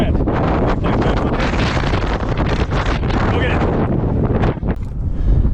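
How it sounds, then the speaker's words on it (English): Strong outdoor wind buffets the microphone in a loud, continuous roar with gusting surges throughout, while someone talks briefly underneath. "My God, it's windy"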